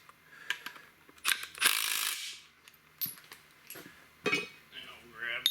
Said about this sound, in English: And I'll grab a good old ratchet. Yep, that one's tight.